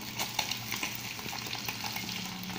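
Mojarra fish steaks frying in oil with onion and tomato crackle and sizzle steadily up close, with a few brief stirring or scraping knocks and no talk.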